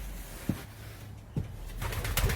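Pigeons coo softly at close range inside a loft, a few low throaty calls spaced apart, with faint rustling in a quiet enclosed space.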